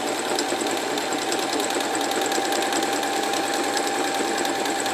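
A sewing machine stitches a cushion in one steady, fast, even whir with rapid rhythmic needle pulses, running loud and unbroken throughout.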